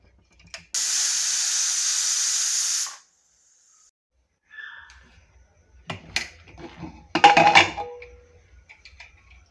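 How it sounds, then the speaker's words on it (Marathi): A loud, steady hiss of escaping steam blasts from a pressure cooker whistle for about two seconds while cooking Indrayani rice pea pulao, then stops; afterward come metallic clinks and rattles. "कुकरला आता मी झाकण लावून घेणार आहे आणि ह्याच्या दोन ते तीन शिट्ट्या काढून घेणार आहे"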